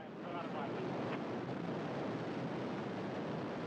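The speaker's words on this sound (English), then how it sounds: "And liftoff." Soyuz TMA-14M rocket at liftoff, a broad, steady roar that swells within the first half second and then holds constant, heard from a distance with wind buffeting the microphone.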